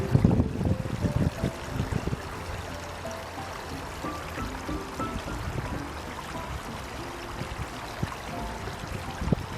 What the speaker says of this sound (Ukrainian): Послухайте, як звучить струмок.